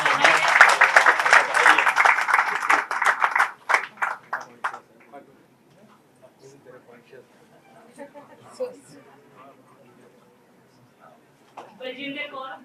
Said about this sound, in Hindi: कृपया तालियों से उसको बहुत बहुत बधाई है।